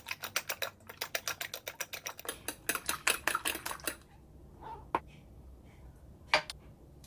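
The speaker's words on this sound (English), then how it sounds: "Beat the eggs until the egg whites and egg yolks are blended." Eggs seasoned with salt and black pepper are beaten in a bowl. A rapid run of close, clicking whisk strikes taps against the bowl, then it stops and a few scattered clinks follow.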